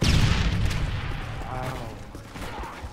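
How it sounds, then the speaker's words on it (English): A stun grenade goes off in a first-person shooter match, a loud burst at the start followed by a fading rumble with scattered gunfire, plus some faint voice underneath. "Tossing stun grenade!"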